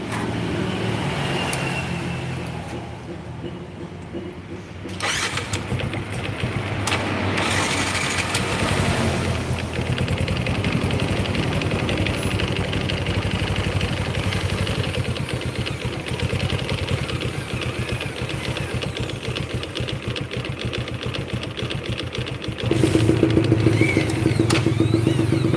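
A hand-clutch motorcycle with a troubled engine turns over and settles into a steady running rumble in a repair shop, loud and close, the revs rising slightly near the end.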